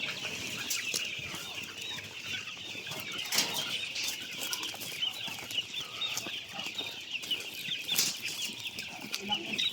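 A flock of chickens clucking and squawking restlessly, with occasional bursts of wing flapping, steady busy activity throughout at moderate distance.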